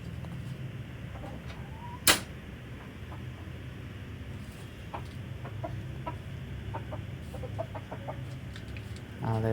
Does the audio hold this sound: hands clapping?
no